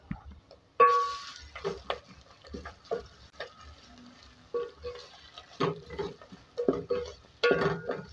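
A spoon stirs and clinks in a bowl while ginger garlic paste is mixed for tandoori beef, giving irregular scraping taps and knocks close by, with a few short bursts of movement between them.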